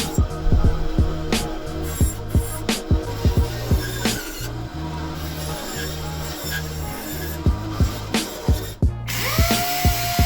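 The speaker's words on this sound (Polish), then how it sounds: "A teraz włączyłem wyżynarkę i zabrałem się za wycinanie półokręgu." A jigsaw cutting a semicircle for a stair safety gate, giving a loud buzzing whine with a regular pulsing rhythm and occasional sharp clicks, close and continuous.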